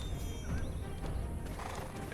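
A horse whinnies in the Black Desert Online video game, a brief high neigh over a steady, busy game soundscape with some clip-clop in the background.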